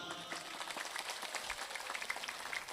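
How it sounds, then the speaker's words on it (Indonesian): An audience applauds at an Indonesian kyai's religious lecture: a steady, fairly faint wash of many hands clapping, heard from a distance and continuing throughout. "Tepuk tangan dulu."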